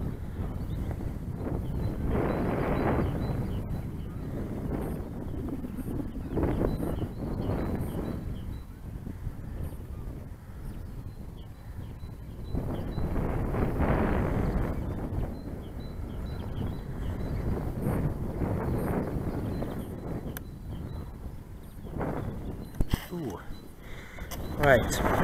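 Strong gusty wind buffets the microphone at an open field where discus-launch gliders are flown, building into heavy low roaring surges every few seconds, with occasional voices faintly under the noise.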